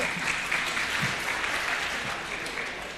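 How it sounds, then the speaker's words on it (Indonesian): Sustained audience applause fills a graduation ceremony at Politeknik Pekerjaan Umum, a steady, dense wash of many hands clapping at even loudness throughout, with no voices over it. "Tepuk tangan."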